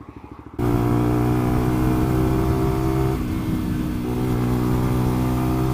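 Lexmoto LXR 125cc motorcycle engine under way, a loud continuous buzzy drone close by after a brief burst of pulsing, holding steady with a slight dip in pitch midway.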